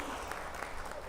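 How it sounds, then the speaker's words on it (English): An audience at a UN panel on gender and the triple planetary crisis applauds for a guest speaker, a steady wash of many hands clapping at moderate level with no pauses. "A round of applause also for Mr."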